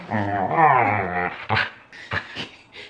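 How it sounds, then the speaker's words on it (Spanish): A female dog growls and whimpers close by while playfully biting, with rough snarling bursts and a few short yips, loud and continuous at first then in choppy spurts. "Ay, cómo me muerde esta perra."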